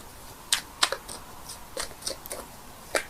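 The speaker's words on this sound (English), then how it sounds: "I'm shuffling the cards here," A deck of tarot cards is shuffled by hand in a quiet room, a series of soft, irregular clicks and snaps spaced out over a few seconds.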